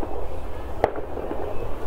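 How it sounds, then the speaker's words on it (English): Fireworks go off outdoors at night near a reportedly haunted site in Liverpool: one sharp, distant bang stands out over a steady background hiss, with fainter pops after it. "Just waiting for these fireworks."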